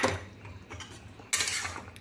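Fried bitter gourd slides off a bowl into a cooking pot for Bengali shukto, giving two short metallic clinks and scrapes of utensil on pot, close and moderately quiet.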